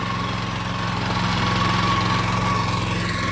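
A tractor engine idles nearby at a rice paddy during transplanting, with a steady, throbbing diesel rumble and a faint whine, continuous throughout with no talk.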